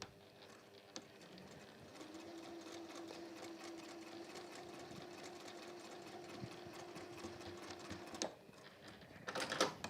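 A sewing machine stitches across a fabric sausage-shaped toy, running steadily for about eight seconds with a whirring motor hum, then stopping briefly before a short burst of stitching resumes at the end.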